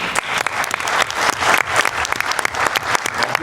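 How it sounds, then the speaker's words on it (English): An audience at a documentary watch night applauds, dense and loud clapping from a crowd that rises and falls in waves throughout. "give yourselves a hand clap here tonight"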